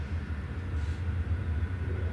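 A train passes outside an old mortuary building, heard indoors as a faint, continuous low rumble with no distinct horn or clatter.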